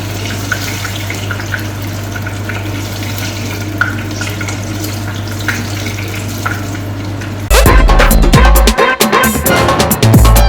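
Chili and banana bajji fritters fry in hot oil, first as a steady low hiss over a humming background, then a sudden louder burst of dense crackling and bubbling near the end.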